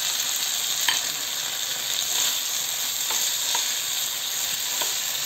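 Half-fried potato and two green chilies sizzle steadily in a pan of spiced oil for a vegetarian kohlrabi dalna, a constant bright frying hiss with a few faint ticks of stirring, close and unbroken.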